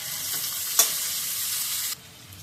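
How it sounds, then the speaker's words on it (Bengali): Onion frying in hot oil makes a bright, close sizzle with one sharp clink near the start; the hiss cuts off abruptly toward the end, leaving quiet. "পেঁয়াজটা তেলে দিয়ে দিলাম, পেঁয়াজটা একটু ভাজা হয়ে যাক"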